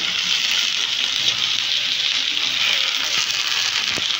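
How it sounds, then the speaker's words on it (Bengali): Carrots and beans frying in white oil in a pan give a loud, continuous hissing sizzle close by, steady from start to finish with a faint scrape near the end. "সবজিগুলো ভেজে নেবো, বিনসটা ভেজে নেবো"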